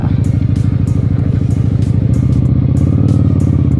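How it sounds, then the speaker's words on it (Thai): A 1992 Honda Shadow 400 cruiser motorcycle is ridden with its engine running loud and close. The steady, throbbing rumble keeps an even pulse, and the revs settle as the rider shifts into third gear. "อ่านี่ผมเลี้ยวเกียร์สามนะครับ รถไม่กระตุกเลย"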